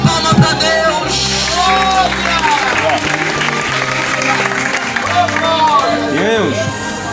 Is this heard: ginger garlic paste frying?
no